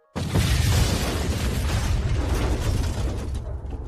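A thunderous explosion boom hits suddenly and loudly, then carries on as a heavy, continuous rumbling roar that fades slightly over several seconds, with no voices.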